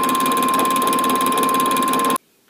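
A lathe boring out welded chuck jaws gives a loud steady whine with a sustained pure tone, then cuts off abruptly to near silence at the end.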